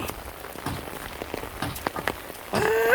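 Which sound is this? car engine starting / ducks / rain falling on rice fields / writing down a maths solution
rain falling on rice fields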